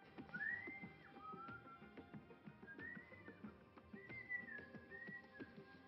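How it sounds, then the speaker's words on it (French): A person whistles a short melodic tune in several rising and gliding phrases, fairly faint and close, over a busy background of indistinct murmuring and clatter. "C'est ça, sifflotte."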